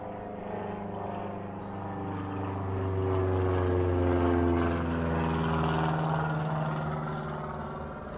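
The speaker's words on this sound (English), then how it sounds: "there's an aeroplane going over" An aeroplane passing over a lochside campsite in Scotland, a low droning hum that swells to its loudest midway and slowly fades, heard at a distance with no talk.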